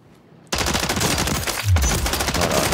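Assault rifle fired at a shooting range in a video game, a loud rapid automatic burst that begins abruptly and continues without a break to the end.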